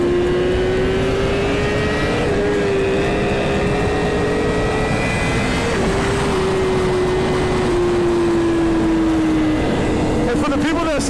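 A Suzuki GSX-R 1000 motorcycle at night in Miami holds a loud, sustained engine tone whose pitch slowly rises and dips as it is pushed toward redline, heard close and continuous, with speech at times over the engine.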